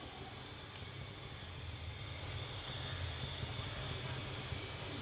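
Cumin seeds dropped into hot oil on a stove give a steady, dense hiss of sizzling that stays even throughout, close and continuous without any talking.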